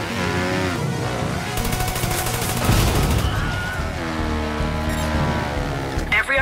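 Rapid automatic gunfire crackles in the video game Trials of the Blood Dragon, dense bursts of shots running almost continuously over a loud, tonal music and effects soundtrack.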